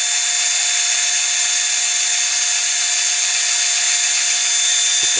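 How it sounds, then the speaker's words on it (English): A wire brush spinning on a power drill strips paint from a die-cast Dinky Toys Maserati racing car, producing a loud, continuous high whirring scrape with a steady tone, ending in a couple of brief knocks. "So what I'm going to do with this, just the wire brush on the drill."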